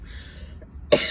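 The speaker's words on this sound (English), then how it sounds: "Apologies for the annoying cough." Single sharp cough from a woman indoors, one brief loud burst after a moment of near quiet.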